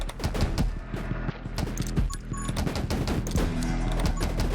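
Gunfire in the survival shooter game 10 Minutes Till Dawn rattles in dense, rapid bursts of overlapping shots and impacts, loud and continuous throughout.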